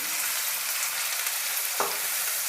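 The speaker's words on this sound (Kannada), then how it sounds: "ಎಣ್ಣೆ ಬಿಸಿ ಆಗ್ತಿದೆ ಸಣ್ಣದಾಗಿ ಕಟ್ ಮಾಡಿರೋ ಈರುಳ್ಳಿನ ಸೇರಿಸ್ತಾ ಇದ್ದೀನಿ" Finely chopped onion frying in hot oil for soya pepper fry, a dense loud continuous sizzle close up with a couple of faint stirring knocks near the end.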